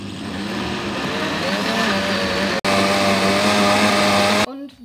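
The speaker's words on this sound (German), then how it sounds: "Und das Ganze kommt jetzt in den Mixer." A kitchen blender whirs steadily, mixing pancake batter made with almond butter and almond milk; the loud motor drone runs nearly five seconds with a brief cut near the middle, then stops abruptly.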